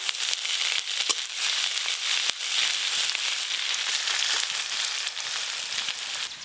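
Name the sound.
garlic and dry chilli tempering frying in oil for red spinach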